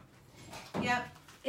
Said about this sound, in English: he's going to come and the dog's going to bark